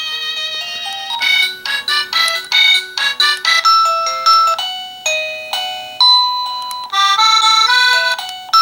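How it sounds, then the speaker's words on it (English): A bright electronic doorbell chime, used as a puppy potty-training door bell, plays a sequence of ringing melodic tones, clear and loud, with short gaps between phrases and no voices. "Let's get to the standard doorbell."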